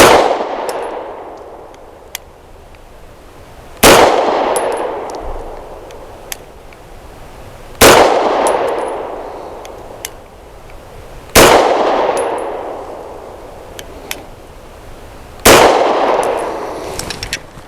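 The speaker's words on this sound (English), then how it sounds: "5 rounds of Winchester white box as a control through the Grand Power K100" Five loud pistol shots from a Grand Power K100 firing Winchester white box ammunition, spaced roughly four seconds apart, each a sharp crack with a ringing decay, alone with no talk.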